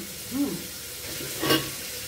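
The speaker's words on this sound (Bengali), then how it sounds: "চিকেনটাও আমি একটুখানি খুব বেশি ভাজবো না, আর একটু নেড়ে নিলাম।" Chicken frying in a pan for a Bengali chicken stew sizzles steadily up close, with a couple of scraping stirs cutting through the hiss.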